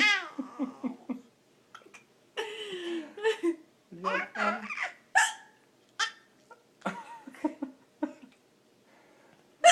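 A baby hiccups repeatedly in short, sharp bursts amid giggles and babbling, while someone talks warmly nearby; the hiccups come close and irregularly spaced between the voices.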